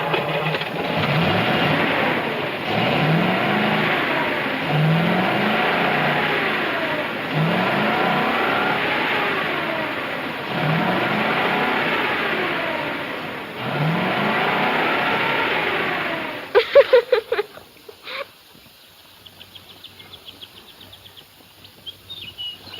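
An old truck engine from the late 1940s with a suspected carburetor and distributor-wire fault, running and revving in repeated surges for about sixteen seconds, then cutting off to quiet with a few clanks.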